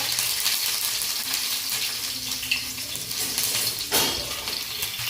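Garlic and chillies sizzle in hot oil, a steady loud hiss and crackle with a brief sharper spatter near the end.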